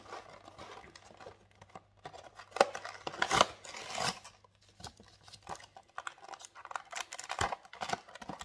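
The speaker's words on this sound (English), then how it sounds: "So just open the back, rip that off like all the other amiibo." The cardboard back of a Kazuya amiibo box is torn open in a series of short, sharp rips and crinkles, close and fairly quiet, with pauses between the pulls.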